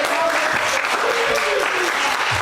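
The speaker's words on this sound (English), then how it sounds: "now let's give her a round of applause as they" An audience at a student improv showcase claps loudly and continuously, a dense close-up patter with faint voices and cheers mixed underneath.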